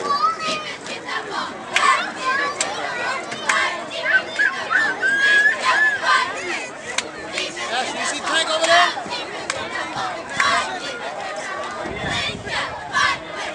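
Crowd noise at a youth football game, a dense continuous mix of cheering, shouting and children's voices with chatter throughout, steady and fairly loud across the whole stretch.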